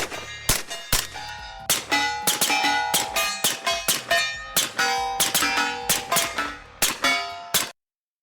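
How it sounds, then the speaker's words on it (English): Rapid, irregular sharp cracks from a suppressed rifle, around twenty in quick succession, each followed by a brief metallic ring, fairly loud and near. "This suppressor on this thing literally sounds like a movie suppressor."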